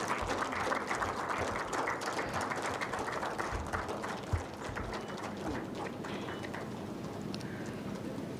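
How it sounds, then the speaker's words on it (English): Steady audience applause fills a conference hall for an honored guest at a valedictory function of an international conference, dense continuous clapping at moderate volume with no talk over it. "please give a huge round of applause for our honorable guest"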